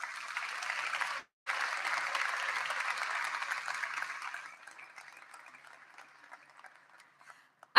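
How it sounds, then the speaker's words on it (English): Applause from the audience at a 2022 high school senior graduation ceremony, a broad sustained clapping that briefly cuts out, resumes, then thins to scattered claps as it fades. "Please give your families a round of applause."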